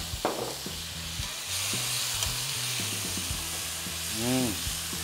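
Tomatoes sizzle as they are stir-fried in a pan for a Chinese home-style tomato and egg dish, a steady close frying hiss under occasional clatter of utensils and low background hum, with no one talking.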